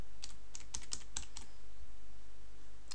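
Rapid bursts of keystrokes on a computer keyboard while working in After Effects, close and clear over a steady background hum, with no talking.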